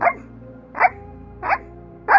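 A person imitates a dog, letting out three or four sharp barks at a steady rhythm, recorded close up with a faint hum underneath.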